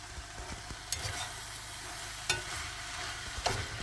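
Home-canned beans being stirred into sizzling ground meat for taco salad: a close, even sizzle broken by a few sharp scrapes of a spoon against the pan, with no voices.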